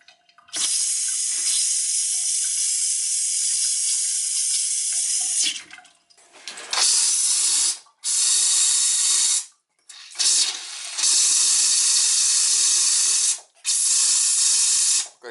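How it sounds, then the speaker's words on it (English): Faucets at an ocean guest cottage being winterized run in loud, hissing bursts of spraying water through small aerators. A long first stream gives way to several shorter on-off runs separated by brief silences. "I need to go around a couple of times and, you know, hit all the faucets and stuff."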